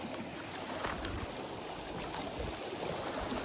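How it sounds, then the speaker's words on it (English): Faint, steady rush of a creek flowing in the dark at high altitude, soft continuous water noise with occasional small splashes and movement close by. "I gotta cross the creek in the dark"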